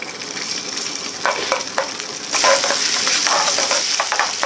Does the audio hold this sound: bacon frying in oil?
yes